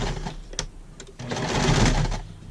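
A sewing machine stitches a Christmas tote bag, running in two close bursts of rapid mechanical whirring and clatter with a short pause between them, loud and alone.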